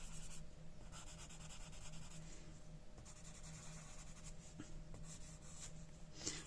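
A colored pencil blender rubs steadily across paper, blending two colors with a continuous close, soft scratchy friction and brief pauses between strokes.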